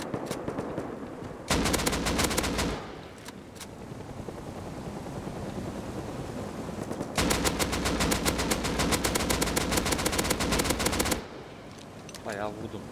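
Heavy automatic gunfire in the survival game Rust, fired at a police helicopter: two long, loud bursts of rapid shots with a quieter gap of distant rumble between them.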